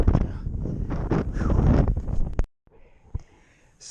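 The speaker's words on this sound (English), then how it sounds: "It's quite windy today." Wind gusting on a blustery seaside day during a bike ride, a loud rumbling buffet for the first half that cuts out abruptly, leaving only faint background and a brief voice.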